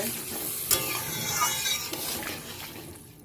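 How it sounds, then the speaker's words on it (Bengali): Water is poured into a simmering fish curry with papaya and potato, giving a close sizzle and stirring with a faint clink of utensils. "ঝোলের জন্য জলটা দিয়ে দিলাম"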